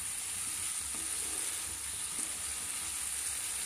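Potatoes sautéing with spices in oil in a pan over medium heat give a steady, even sizzle throughout, with faint stirring scrapes and no speech.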